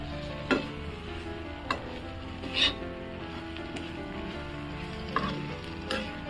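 A spoon scrapes and clinks against a pan as wild forest vegetables are stirred, making a few distinct knocks over a soft, low sizzle that is quiet and close, with no voices.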